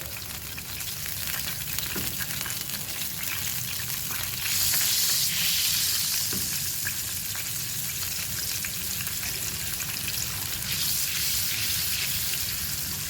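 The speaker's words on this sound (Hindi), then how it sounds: "मक्खन मेल्ट हो चुका है, इसके अंदर हम लहसुन के जवे डालेंगे" Garlic cloves sizzle in melted butter in a pan for white sauce pasta, a loud continuous close frying hiss that swells briefly after the garlic goes in, with no talking.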